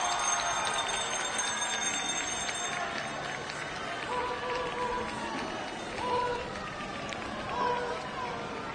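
A lap bell rung at a pool during a women's distance freestyle final at the 2023 TYR Pro Swim Series in Fort Lauderdale, marking the last 100 meters. Faint, repeated dings sit under crowd noise, splashing and commentary.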